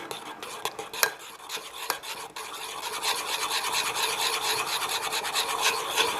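A spoon steadily stirs softened gelatin sheets into hot strawberry purée, a close scraping, rasping sound with a few sharper knocks early on, then continuous rubbing strokes without pause.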